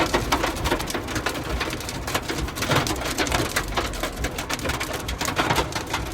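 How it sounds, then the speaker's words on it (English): Dense, hard pattering of hail striking surfaces during a hailstorm on a Texas highway, steady and loud throughout, with no voices. "I got caught in a freaking hailstorm."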